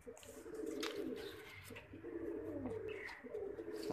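Soft, low cooing from a Mohar-type pigeon repeats steadily through the clip, with a few faint chirps from other birds in the background.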